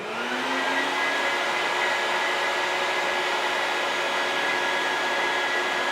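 A Bucket Head shop vacuum runs close by with a loud, steady whooshing roar and a constant motor whine that stays level for the whole stretch.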